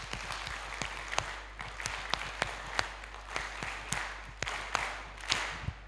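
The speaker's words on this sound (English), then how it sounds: "So let's warm our hands and give him a clap." A university first-year orientation audience claps together in a steady, rhythmic pattern of sharp, evenly spaced claps over low room noise, fairly faint and somewhat distant.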